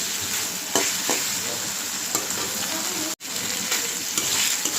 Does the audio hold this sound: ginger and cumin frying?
yes